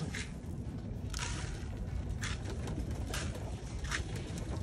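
Pigeons in a racing pigeon loft, soft cooing and shuffling with faint wing flutters and pattering, quiet and close with a low rumbling background.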